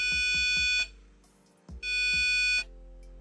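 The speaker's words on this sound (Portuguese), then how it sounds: "Ele tem um bip também dentro, um buzzer" An electronic buzzer on an ESP32 terminal sounds three short beeps, then two longer sustained tones separated by a brief pause, loud and close.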